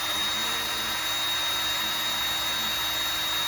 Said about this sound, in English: Just drilling some holes in here.